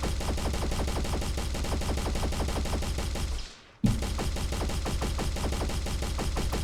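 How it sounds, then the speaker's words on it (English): Rapid continuous gunfire from the KovaaK's 2.0 aim trainer, a dense stream of shots broken by one short pause partway through before resuming, loud and close with no voices. "Shouldn't have started shooting so soon there."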